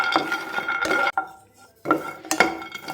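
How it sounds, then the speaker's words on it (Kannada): Almonds dry roasting in a pan while being stirred, giving scraping, rattling strokes of a spatula against metal in uneven bursts with a short pause in the middle, close and fairly loud. "ಬಾದಾಮ್ ಡ್ರೈ ರೋಸ್ಟ್ ಮಾಡ್ಕೊತಾ ಇದ್ದೀನಿ."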